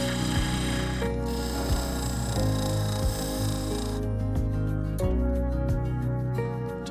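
Wood lathe turning a segmented wooden egg while the top ring is levelled, giving a steady droning hum with scraping tool contact and occasional rhythmic ticks, heard alone without talk.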